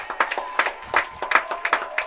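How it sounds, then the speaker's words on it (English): Spectators at a varsity high school baseball game clap for a player walking off the field, a brief patch of scattered, uneven hand claps from a small crowd. "He's getting a really well-deserved round of applause as he comes off the field, too"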